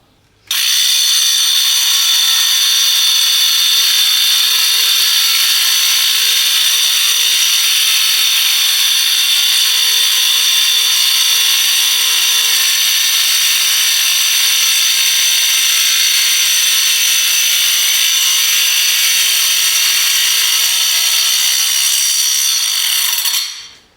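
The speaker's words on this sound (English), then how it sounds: "And there you have it, a closer look at the 18-volt wet dry tile" A Ryobi 18V wet/dry tile saw cuts through tile in one long, loud, steady whining run of about twenty seconds, close and unbroken from start to finish.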